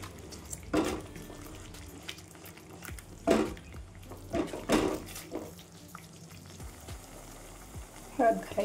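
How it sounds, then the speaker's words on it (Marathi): Chana dal and bottle gourd frying in oil in a pan, a low constant sizzle punctuated by a few louder stirring scrapes and clatters, heard close with no talking. "छान असं तेलामध्ये आहे ना छान भाजून घ्यायचं, जेणेकरून टेस्ट आपल्याला छान आली पाहिजे."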